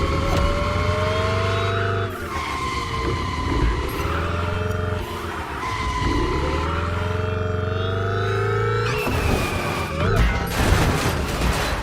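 A car engine drones and revs continuously while driving a wall ride in The Crew Motorfest, pitch rising and falling with throttle changes, plus a burst of tire and impact noise near the end.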